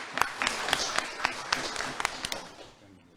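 At a Ramadan quiz award ceremony in Toronto, the audience applauds as a team captain comes up for prizes, a modest patter of claps with a few sharp close ones, tapering off toward the end.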